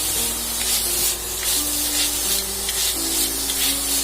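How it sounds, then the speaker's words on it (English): Grated jaggery melts in a pan with coconut, a continuous bright hissing sizzle with faint scraping stirs, close and steady with no voices. "See, slowly jaggery is melting."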